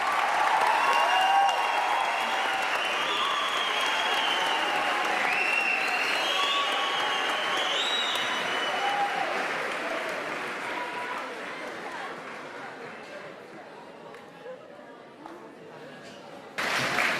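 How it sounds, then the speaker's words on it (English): A large audience at a panel event breaks into sustained applause, loud and dense at first, then gradually thinning and fading over the final seconds, with voices faintly mixed in. "Give yourselves a massive round of applause."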